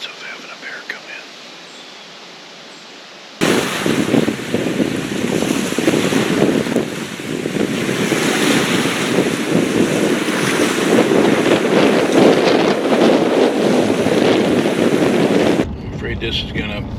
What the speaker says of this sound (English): this wind hasn't laid down much